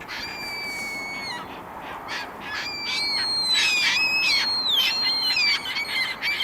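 Common gull display calls: repeated high, drawn-out wailing cries, some sliding in pitch, mixed with shorter squawks over a steady outdoor background.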